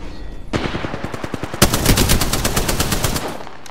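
Automatic weapon fire in the video game Apex Legends, rapid bursts of close, loud shots that start sparse and then become a dense, sustained stream of gunfire.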